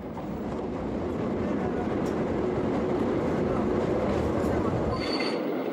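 An old diesel-hauled train, the Lézard Rouge in Tunisia, rumbles along continuously with a dense, steady roar of wheels and carriages, close and loud, with no clear talk over it.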